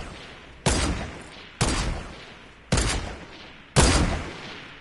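Four loud sniper shots ring out in Fortnite, evenly spaced about a second apart, each a sharp crack followed by a decaying echo.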